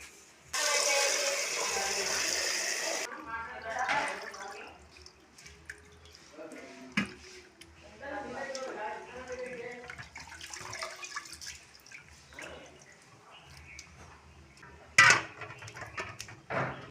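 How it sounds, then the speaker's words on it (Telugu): Tap water runs briefly onto salt- and turmeric-soaked country chicken pieces being rinsed, followed by drips and splashes, with a person talking over it. "10 నిమిషాల తర్వాత ఈ చికెన్ ఉంది కదా, ఉప్పు పసుపు వేసి నానబెట్టిన చికెన్ ఉంది కదా, ఈ మొత్తాన్ని ఒకసారి మళ్ళీ శుభ్రంగా కడుక్కుందాం"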